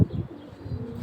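Soft pigeon cooing at close range, a low throaty murmur that repeats steadily through the brief moment.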